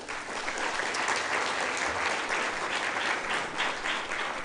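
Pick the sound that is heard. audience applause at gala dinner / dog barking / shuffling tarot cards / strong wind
audience applause at gala dinner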